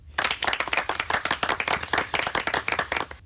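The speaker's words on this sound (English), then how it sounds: "A round of applause for Tony" Round of applause from a radio studio crew on a British talk show, dense rapid clapping rising sharply and holding steady at close range for a few seconds, no voices over it.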